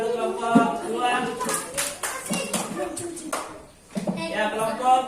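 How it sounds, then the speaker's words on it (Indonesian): A classroom group of children applauds for group 2, scattered hand claps mixing with chatter and shuffling, the clapping fading briefly before resuming near the end. "Ya, silakan dulu tepuk tangan dulu kelompok 2."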